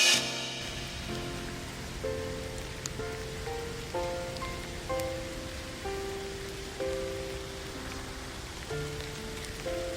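Steady rain falls in a wash of broadband hiss under soft, sustained melodic music notes, with no voices.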